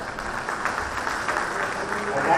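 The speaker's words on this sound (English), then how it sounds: "I think we deserve another huge round of applause." Applause at a convocation ceremony: a steady, dense wash of clapping from a seated audience that fills the whole stretch without breaks and swells slightly toward the end, with no voices standing out over it.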